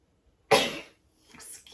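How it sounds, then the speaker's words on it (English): A single sharp sneeze from a woman with hay fever, close and abrupt, followed by a short, softer breath after a brief pause. "I'm going to sneeze, sorry."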